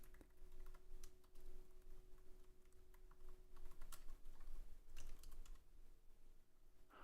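Steady typing on a computer keyboard, with scattered clicks and short bursts of keystrokes at moderate level over a faint steady hum. No one speaks.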